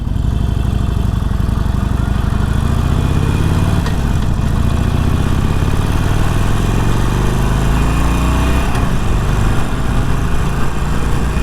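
A 48 motorcycle engine runs steadily and loudly on a canyon ride, its pitch rising and falling as the rider works the throttle through the bends, with constant wind rumble and no voices.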